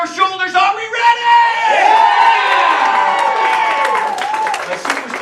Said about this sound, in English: all the clapping and cheering is for you